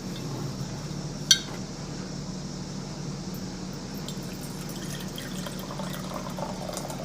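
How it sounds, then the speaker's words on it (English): Wine juice is poured into a glass jar, giving a soft, steady trickle and fill sound close by, with a single sharp glassy clink early on and no talking. "I'm gonna pour a little bit in this jar."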